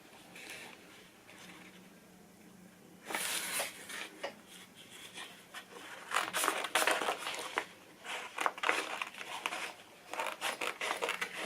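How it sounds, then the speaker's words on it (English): Scissors snip through a sheet of printed HTV heat-transfer vinyl in a run of short, crisp cuts and crinkles from about three seconds on, close by and fairly quiet, with no talk. "I'm just going to trim the cut off,"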